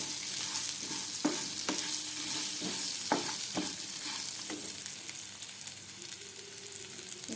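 Something fries in a pan with cumin, carom seeds, turmeric powder and neem leaves for a Basale kajipu dish, giving a steady close sizzle with repeated clattering stirs and scrapes.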